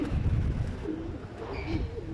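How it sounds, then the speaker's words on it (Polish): Pigeons kept in a loft give soft, low cooing calls, a few murmuring coos close by over quiet background rustle. "Tu gołębie sobie siedzą."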